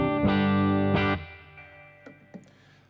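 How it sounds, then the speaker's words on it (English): A Gretsch G5120 hollowbody electric guitar with reverb on rings out in two strong strummed chords, then lighter plucked notes and string noise as the reverb tail decays. "Just turn off the pedals and turn on the reverb."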